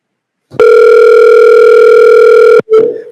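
Telephone dialing tone from auto-dialer software, one loud steady tone held for about two seconds and then abruptly cut off, followed by a brief click.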